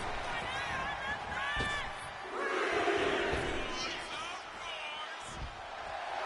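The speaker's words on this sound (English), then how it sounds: "now she's feeling the energy from the crowd" A roaring arena crowd in the WWE 2K25 wrestling video game, with shouts and whoops over steady crowd noise and thuds of in-ring action.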